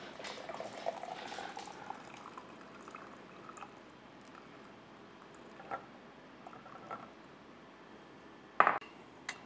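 Hot water poured into a BAYKA glass French press makes a soft, steady trickling and bubbling hiss, quiet and continuous, with a sharp clink of glass near the end and no talk.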